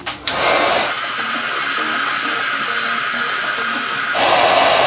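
A steady, loud blowing hiss runs through, like a hair dryer, after a couple of brief clicks at the start, with the tone shifting near the end.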